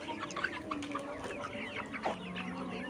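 A flock of 67-day-old layer pullet chickens clucks continuously nearby on a farm, with overlapping calls and soft chirps over a busy background.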